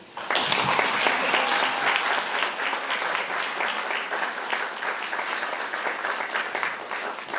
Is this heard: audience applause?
yes